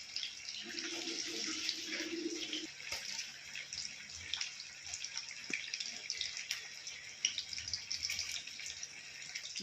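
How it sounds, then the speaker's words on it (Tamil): Soaked basmati rice tumbles into a pot of boiling water, giving a soft continuous bubbling and splashing with faint clinks from a nearby utensil and no speech. "இப்போ ஊற வச்ச அரிசியை வந்து இதில் போட்டுக்கலாம்"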